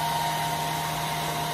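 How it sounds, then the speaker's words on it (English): A hair blow dryer runs on its high setting with a steady, even whir and hum for a moment, close and alone, used to soften sticker labels for peeling. "Grab your blow dryer on high."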